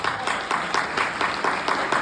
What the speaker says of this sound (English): Another round of applause for the mothers.